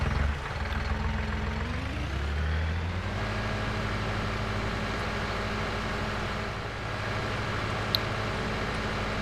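A tractor engine in Farming Simulator 19 drones steadily, with a low rumble that shifts pitch early on and then settles into a continuous loud hum throughout.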